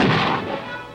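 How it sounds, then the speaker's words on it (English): Artillery fire from Vietnam War combat footage, the 4th Infantry's hill assault, comes as a loud, dense rumbling crash that fades slightly over a single second with no voices. "Artillery."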